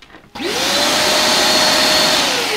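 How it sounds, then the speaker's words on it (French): Dust extraction vacuum on a Scheppach BTS900 stationary sander switches on after a short quiet moment, then roars with a loud, steady whine and a slightly falling pitch, running alone with no talk. "Test, dispositif d'aspiration. Est-ce que l'aspirateur, il peut... Oh, il rentre."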